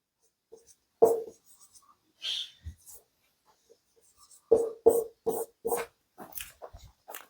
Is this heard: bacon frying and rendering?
no